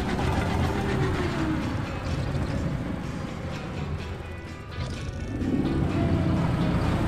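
A 30-horsepower Citroen 2CV engine strains continuously across an off-road test course, its buzzy drone swelling, dipping and surging again as the little car climbs over rough terrain with an open differential.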